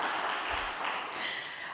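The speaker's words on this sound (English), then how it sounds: "everyone deserves applause" Audience applause fills a university visiting-artists lecture hall, a dense, steady wash of many hands clapping at moderate volume that holds evenly for just under two seconds.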